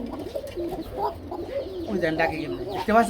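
A pair of large fancy pigeons coo in low, rolling calls close by, repeating several times while someone talks over them.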